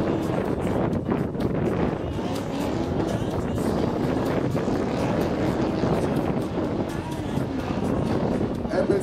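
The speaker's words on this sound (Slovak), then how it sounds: "E500 brutálny 8-valec. Sledujte ten výkon a gumovanie a obrovské uhly, ktoré zvláda tento Mercedes." Mercedes E500 V8 engine roaring through a drift run at a European drifting event, a loud, steady wall of engine and tyre noise heard from the trackside with heavy wind buffeting.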